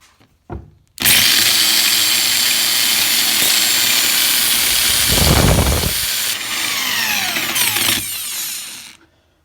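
Repaired electric drill motor running after a fix, a couple of brief clicks before a loud steady high whine starts, with a dip in pitch midway as the speed changes, then winding down and stopping.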